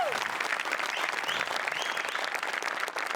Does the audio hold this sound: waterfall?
no